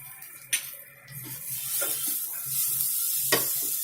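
Spiced pea kachori filling stirred in a frying pan, a soft steady sizzle with scraping spatula strokes and a few sharper clicks against the pan, close and fairly quiet, no talk.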